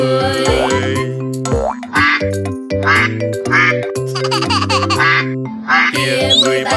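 Cartoon ducks quack again and again in a bouncy Vietnamese CoComelon children's counting song, the loud, close quacks popping over a steady musical backing with singing voices.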